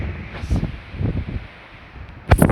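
Strong gusting wind sweeps across a farm field, buffeting the microphone in loud low rumbling surges that swell and ease over a couple of seconds, with rustling throughout and a sharp gust at the end.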